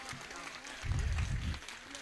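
Audience applause at a live recitation swells up for about a second under a faint, echoing background voice, then fades back down.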